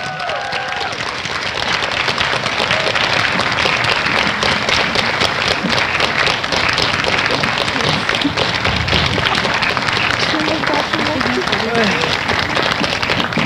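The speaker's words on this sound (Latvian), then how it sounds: "ansambļa Putvēņa vadītājai Gitai Andersonai aplausi." A large audience at an outdoor kokle ensemble concert in Līgo park claps steadily and densely, a sustained, loud wash of applause with scattered cheers, continuous throughout.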